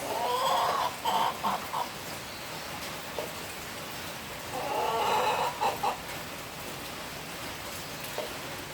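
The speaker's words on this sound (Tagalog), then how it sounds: "Ingay ng manok." Chickens cluck in two clustered bursts over a steady hiss of background noise, moderately close, with quieter stretches between.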